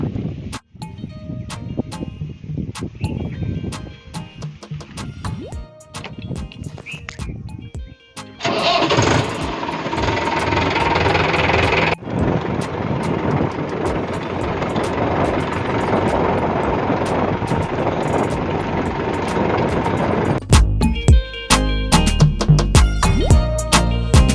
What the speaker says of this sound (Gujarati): આ ટેટર લઈને જવાનું ઘરે